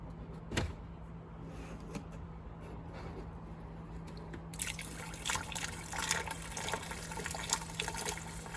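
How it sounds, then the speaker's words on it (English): Iron cleaner solution poured into the brine well of a water softener, a steady liquid trickle and splash that grows fuller and louder midway through, with a faint hum underneath and no voices. "let's go ahead and pour this iron cleaner solution into the brine well here"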